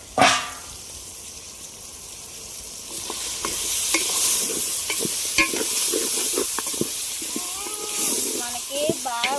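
Country chicken pulao frying in a pot is stirred, with a sizzling hiss under repeated scraping and clanking strokes of the spoon, while a voice speaks briefly.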